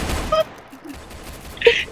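Pistol gunfire in a video game, a few short sharp cracks spread across a brief moment, fairly sparse and mid-level against a low background.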